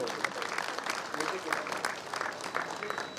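An audience claps at a live event in Talagang, a dense, continuous patter of many hands with no pauses.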